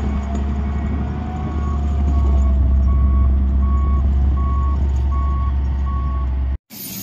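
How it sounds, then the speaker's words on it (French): A snow-clearing truck works a mountain road in the Alps, its reversing alarm beeping in a regular loud pulse over the deep engine rumble, cutting off abruptly near the end. "Le déneigement en action."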